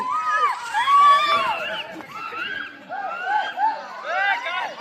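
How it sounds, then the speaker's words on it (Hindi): During village Holi celebrations, a crowd of villagers cheers and shouts, with many overlapping high excited voices and whoops rising and falling continuously, fairly close. "देखना अब कितनी कितनी भीड़ हो जाए"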